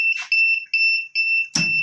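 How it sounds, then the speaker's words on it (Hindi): An automatic packing machine's alarm sounds as a loud electronic beeping with repeated steady two-tone bursts, about five in under two seconds, followed by a short thump at the end. "ये लाइव के दौरान ही हमें पता लग गया कि अलार्म बजा है। तो अलार्म बजता है जब तो इसका कोई ना कोई छोटा मोटा मसला हुआ होगा जी।"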